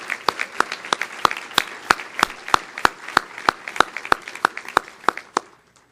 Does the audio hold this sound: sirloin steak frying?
no